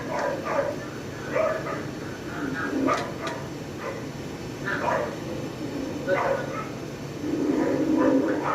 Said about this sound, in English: when he touches the girl, it barks at him